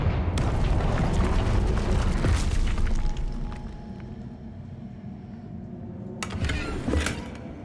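Confringo blasting spell smashing through a barrier in Hogwarts Legacy: a loud, broad rumbling boom with crackling debris that fades into a low magical hum, then a second bright burst and rumble near the end.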